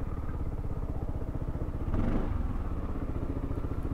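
A Yamaha Xmax scooter runs steadily up close, its mid-pitched engine droning continuously with a brief louder surge partway through, no voices over it.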